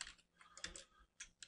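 Rapid clicking of a computer keyboard nearby during 3D piping software work, a quick burst of several keystrokes with uneven rhythm and no talk.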